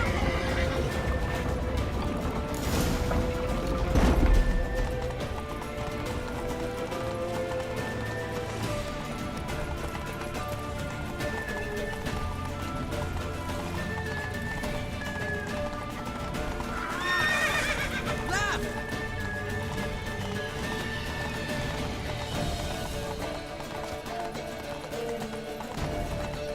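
Horses gallop with rapid clip-clop hoofbeats and whinny in The Witcher 3: Wild Hunt, set against a game soundtrack of music and effects.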